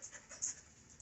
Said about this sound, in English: he's panting so hard now